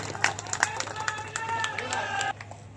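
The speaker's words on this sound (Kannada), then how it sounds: "ಜೋರಾದ ಚಪ್ಪಾಳೆಯೊಂದಿಗೆ ಈ ಕಾರ್ಯಕ್ಕೆ ತಾವು ಕೂಡ ಭಾಗಿಯಾಗಬೇಕಾಗಿ ಕೋರ್ತಾ ಇದ್ದಾರೆ" Audience applause at a ceremony honoring a minister at a groundbreaking for an Indian Reserve Battalion unit in KGF: scattered, uneven claps come through under a dominant speaking voice and crowd murmur, then thin out near the end.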